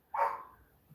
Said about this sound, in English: Apologize about my dog in the background.